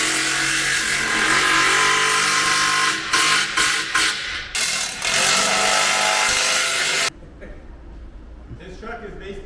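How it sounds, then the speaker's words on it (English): A Ram Laramie pickup truck's engine roars at high revs for several seconds after an exhaust modification, drops in bursts, then cuts off, leaving quieter background sounds. "This truck is basically maxing it out right now."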